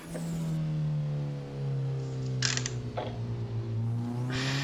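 Car engine holding a steady drone with rising and falling pitch as it circles the Okuibuki track, close and loud throughout, with brief clatters midway and no talk.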